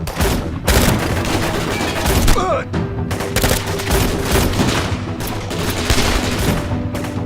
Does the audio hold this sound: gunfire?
yes